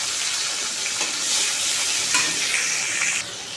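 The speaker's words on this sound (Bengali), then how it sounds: "তেলের মধ্যে ছেড়ে দিচ্ছি টমেটো কুচিটা" Chopped tomato sizzles and fries in a little hot oil in a pan where fish was just fried, a steady close hiss with faint stirring, no talking.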